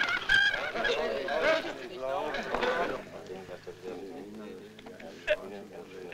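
Chickens squawk and cackle nearby in a scene from the 1972 film The Lion's Heart, loud bursts of agitated fowl calls mixed with people talking over them.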